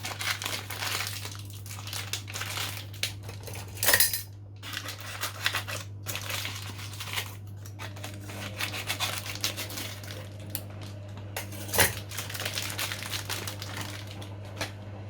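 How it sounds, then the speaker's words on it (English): Sausage meat is squeezed from its casings into a bowl, heard as irregular close crinkling, squelching and rustling handling noises over a constant low hum, with a couple of sharper knocks. "we need to put the meat into the bowl. So you can squeeze it out or however you want to do it"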